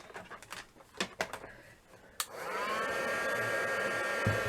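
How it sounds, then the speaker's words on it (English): A heat gun starts up and blows a steady, loud stream of hot air while drying a mixed media altered bangle craft project, following a few light knocks and handling sounds. "Heat gun."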